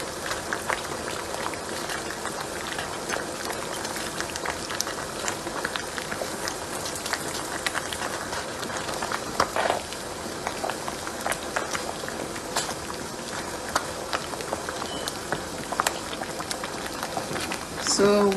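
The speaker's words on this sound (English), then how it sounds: "So I'm going to cover this pot and allow the soup to simmer very well." Egusi and ogbono soup simmers in a covered pot, giving a steady soft bubbling and popping, with faint patter throughout at a modest level.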